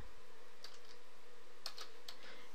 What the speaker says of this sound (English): you can just start typing whatever you want here